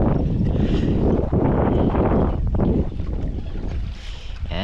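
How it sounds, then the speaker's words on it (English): Strong wind buffeting the microphone on a reservoir while bass fishing from a boat, a loud continuous rumbling roar with gusts rising and easing throughout. "So the wind is definitely picking up"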